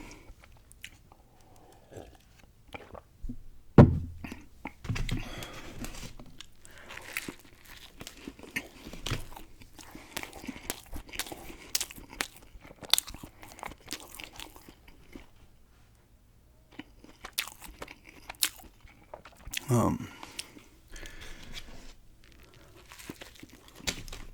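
Someone bites and chews an egg sandwich on buttered toasted bread, with crunchy bites, soft chewing and moist squishy mouth sounds up close, irregular and fairly quiet, with no talking.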